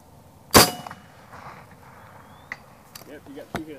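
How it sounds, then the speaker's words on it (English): An air gun shot at a long-range target 300 yards away, one sharp loud crack near the start followed by faint distant clicks and brief voices speaking afterward. "300 yards with an air gun"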